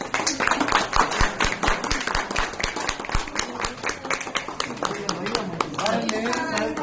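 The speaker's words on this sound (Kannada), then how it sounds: "ಚಪ್ಪಾಳೆ." Dense, close clapping applause from a group, a rapid patter of hand claps running throughout with voices talking over it.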